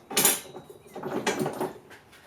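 Bolt being threaded by hand into a seat back support bracket while fitting a rear seat kit on a 2006 Club Car DS 48-volt electric golf cart, giving a few short close metallic clicks and scrapes in quick bursts.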